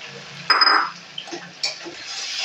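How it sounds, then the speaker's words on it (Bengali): Water from a rinsed bowl is poured into a pan of frying spice paste with turmeric for a Bengali egg curry, giving a brief splash followed by soft sizzling and bubbling. "বাটিটা ধুয়েও একটু জল দিয়ে দিচ্ছি"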